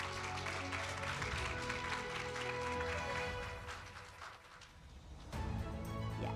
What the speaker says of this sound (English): Can we give the big applause, ladies and gentlemen?